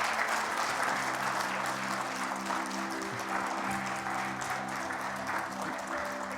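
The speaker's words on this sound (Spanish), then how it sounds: "Dale un aplauso fuerte al Señor." A church congregation applauds steadily through the whole stretch, a dense, continuous wash of many hands at even loudness, with sustained organ or keyboard tones held underneath.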